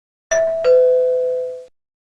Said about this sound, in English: My hands were shaking as I rang the doorbell